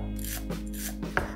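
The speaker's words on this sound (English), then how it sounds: "What I'm using in this recipe are some spring greens, nice and fresh, straight off the garden. You chop them absolutely fine." Knife chopping fresh garden spring greens finely on a board, a few quick close scraping chops in rhythm, over a steady background hum.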